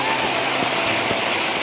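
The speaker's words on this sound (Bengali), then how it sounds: "দেখো কত জোরে বৃষ্টি পড়ছে" Heavy rain pours down steadily on surfaces nearby, a dense continuous hiss with a few louder drip hits, loud and close with no voices.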